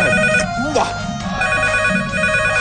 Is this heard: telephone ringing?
yes